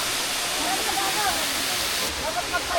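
Daranak Falls in Tanay, Rizal roars close by, a loud, unbroken wash of falling water that fills the whole moment, with voices faintly present beneath it.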